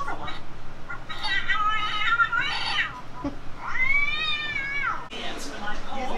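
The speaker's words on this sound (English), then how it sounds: "Oh, the cat." A cat meows several times in a spooky Haunted Mansion dark ride, long drawn-out caterwauling calls that are loud and close, over a steady murmur of ride ambience.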